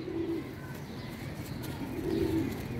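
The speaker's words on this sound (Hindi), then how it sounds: "ये वही कबूतर है डैडी, बड़ी देर पुराना कबूतर है" Soft pigeon cooing, two low throaty coos spaced apart, fairly close over quiet background hiss.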